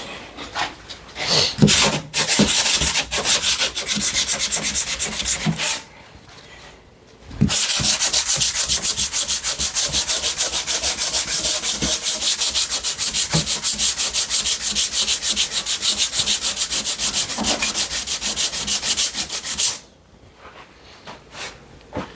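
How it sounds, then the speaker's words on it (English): Loud, rapid hand sanding of a drywall patch with brisk back-and-forth strokes, pausing briefly twice before resuming, close up. "So I'm gonna start sanding and check back in"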